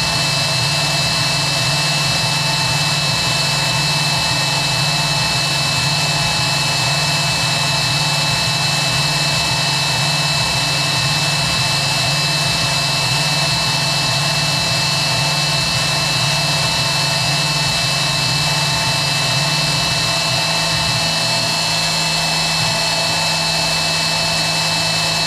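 CNC mill running a 2D contour finishing pass on a 1911 pistol slide, a steady, loud, continuous high machining whine with a low hum beneath it, unbroken throughout.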